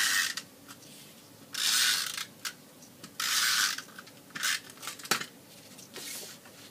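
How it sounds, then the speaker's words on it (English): A snail adhesive tape runner is pulled along the edge of a layer being stuck to a handmade card, making several short ratcheting, rasping strokes with brief pauses between them, close and fairly quiet. "now I'm going to adhere this to the card using snail adhesive"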